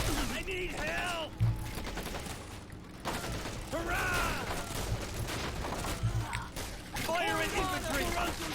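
Gunfire from Men of War Assault Squad 2 in a Hurtgen Forest skirmish: bursts of rifle and machine-gun fire and mechanical clatter come in waves, with a voice talking over much of it.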